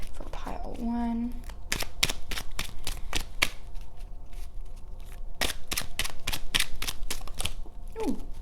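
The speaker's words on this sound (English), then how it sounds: "let's shuffle through these again" Tarot cards shuffled in the hands, a run of sharp riffling snaps and flutters in clustered bursts, up close, with a voice speaking briefly near the start.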